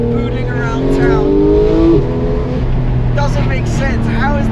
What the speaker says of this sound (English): Do you hear those shifts? Sounds like a cup car.